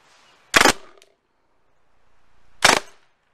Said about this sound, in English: I'm going to load in some paintballs and we'll shoot at that tree.